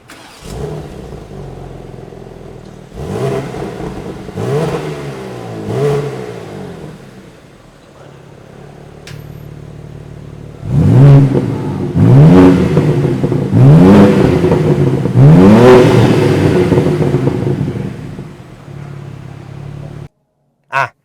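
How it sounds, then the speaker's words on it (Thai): A BMW M2 (G87) coupe with a 460-horsepower engine starts up, then gives a string of sharp revs that climb and fall back, loud and close, before idling and cutting off. "เราไปสตาร์ทให้ฟังกันดีกว่าไหมว่าเสียงเบิ้ลเสียงสตาร์ทเป็นอย่างไรบ้างนะครับ"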